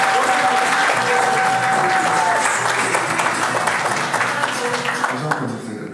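Guests at a Gabonese civil wedding ceremony break into lively applause, a thick wash of clapping from a crowded room that stays steady for several seconds and then tapers off, with faint voices mixed underneath.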